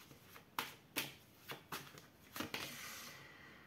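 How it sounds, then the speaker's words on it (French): A deck of tarot cards being shuffled up close for a fresh draw, as a handful of quiet, crisp riffling bursts at uneven intervals over a soft background hiss. "je vais refaire un tirage avec le tarot"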